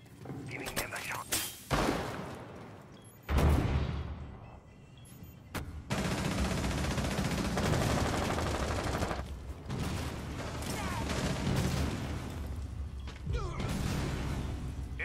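Bursts of gunfire and sharp thuds from the tactical shooter Rainbow Six Siege, some clipped and close, others in sustained stretches, with faint voices in the background.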